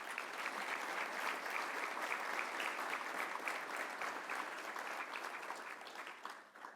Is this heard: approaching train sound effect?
no